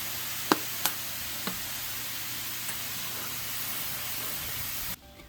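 Onions sizzle in a pan for cornbread stuffing, giving a steady broadband hiss with a few sharp utensil clicks near the start, then cutting off abruptly at the end; no one talks.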